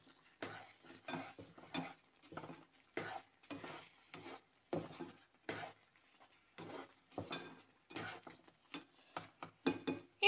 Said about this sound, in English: So we have to mix this suji, and there is no lump in this.